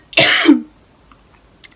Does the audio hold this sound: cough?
yes